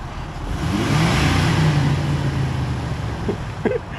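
Jeep engine idling and creeping forward on an off-road trail, a close, loud low rumble that swells in the middle and then eases off, with brief clunks near the end and no speech.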